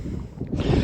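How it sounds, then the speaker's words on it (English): Wind buffets the microphone outdoors during a walk, a brief loud low rumble with gusty swells that rises toward the end, close and alone without talk. "if you can hear the wind, I'm sorry"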